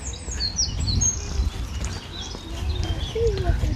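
A wren sings in a local park in Brookvale, with high, quick chirps and trills that come and go over a soft outdoor background.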